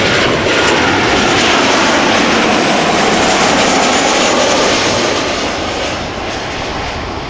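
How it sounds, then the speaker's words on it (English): A KLM airliner from Venice, arriving low over buildings at Amsterdam Schiphol Airport on a summer evening, fills the air with a loud, steady, broadband engine roar that eases slightly toward the end, with no talk. "the airplane is flying low above the buildings"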